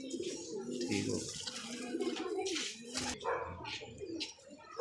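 A pigeon coos in low, rolling murmurs close by, with a few brief noises and background sounds breaking in.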